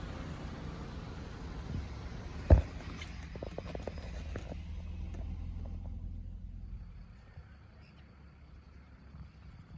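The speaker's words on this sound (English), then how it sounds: "here comes another vehicle in behind" A vehicle drives in behind a large stretch limousine: a low engine rumble and tyre roar that swells, with a sharp knock partway through, then gradually fades and thins out toward the end.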